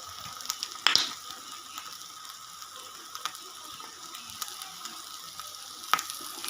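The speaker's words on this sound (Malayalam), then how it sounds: "അപ്പം നമുക്ക് കുറച്ച് പച്ച വെളിച്ചെണ്ണ അതിൻ്റെ മണ്ടയ്ക്ക് ഒഴിച്ച് കൊടുക്കാം." Coconut oil poured over fish cooking in a pan, with a soft steady sizzle and a few faint clinks and taps close by, no talking.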